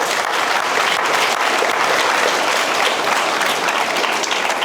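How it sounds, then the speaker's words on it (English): Loud, dense applause from a town hall audience greeting the Ag Crime Unit, steady and unbroken throughout. "let's give them a round of applause"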